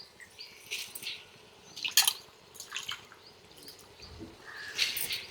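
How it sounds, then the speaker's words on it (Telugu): Soaked moong dal goes into a pot of kichidi, giving wet, splashy plops and small drips in scattered bursts, close and fairly quiet with a low background murmur. "ఇప్పుడు పెసరపప్పు కూడా వేసేసుకుందామండి"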